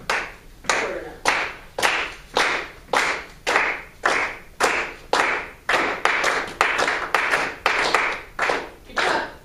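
A group of people claps a steady quarter-note beat in unison, evenly spaced sharp claps at a moderate tempo, close and clear with no voices over them.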